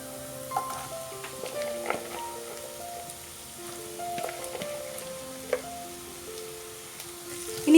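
Chopped onions hitting hot oil with well-browned ginger and garlic in a pan for Kerala-style mutton roast, a soft steady sizzle with scattered crackles and a few light clinks, close and without talk.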